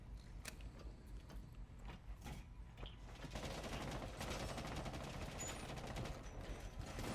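Video game gunfire, faint scattered shots early on that build into a dense, continuous burst of rapid fire, heard at a low overall level.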